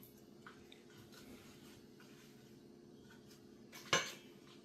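Melted butterscotch with vanilla is stirred into a mixture in a bowl, giving faint, soft scraping and squishing with one sharper clink of a utensil against the bowl near the end.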